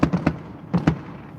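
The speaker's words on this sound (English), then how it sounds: "There's a lot of fireworks going on." Fireworks bursting at a minor league baseball stadium in St. Paul, heard from a distance as a quick cluster of muffled pops and thumps in two short volleys.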